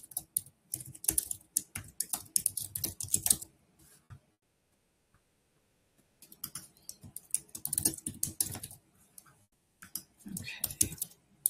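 Someone types test checkout details on a computer keyboard, bursts of rapid clicking keystrokes separated by a pause, with faint talk mixed in.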